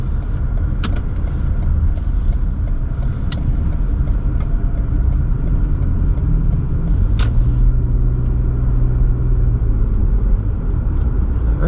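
Steady low road rumble and tire noise from a Lexus RX450h hybrid SUV cruising along, continuous and close, with a few faint clicks over it.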